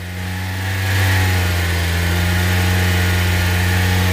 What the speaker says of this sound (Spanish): Ahí es un sonido del motor uniforme, no se siente mayores golpes, nada.